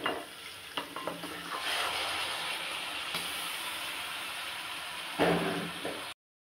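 Chicken tossed into hot oil in a pan for a curd chicken curry, sizzling and frying steadily while being stirred, with louder scraping bursts near the start and toward the end; no speech.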